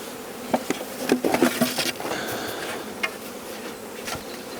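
Honey bees buzzing around an opened hive during summer splitting of colonies, with a steady close hum and a few sharper knocks and rustles near the start.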